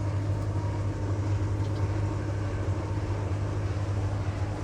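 A steam locomotive on the West Coast Wilderness Railway in the Tasmanian rainforest, coupling up to its carriages, gives a steady, close, low rumbling drone that holds evenly throughout without any distinct clank.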